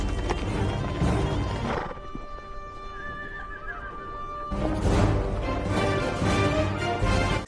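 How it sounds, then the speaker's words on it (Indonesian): Horses in a long-distance endurance race across barren desert hills, galloping hoofbeats and loud neighing that swell, ease off briefly in the middle and then surge back, with no voices over them. "Sementara itu di medan perlombaan mereka terus memacu kudanya di perbukitan tandus hingga malam tiba."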